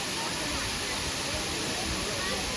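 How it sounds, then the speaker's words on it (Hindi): A waterfall near Mana village roars as a dense, steady broadband rush of falling water, close and continuous with no break. "ये है झरना"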